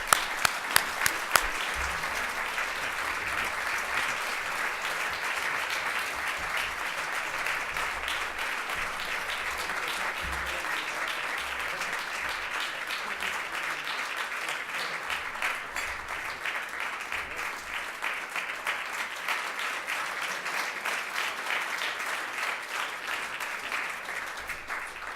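Sustained audience applause welcoming an award recipient at a policy conference evening, steady and full for about twenty-five seconds, a few sharper claps at the start, then an even roomful of clapping throughout with no speech.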